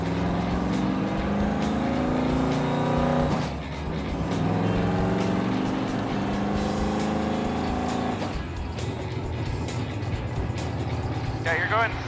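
A custom car cruises at highway speed, about 75 mph at 1900 RPM, with a manual gearbox. Its engine gives a loud, steady droning hum that shifts pitch slightly at two moments, while people talk over it inside the cabin.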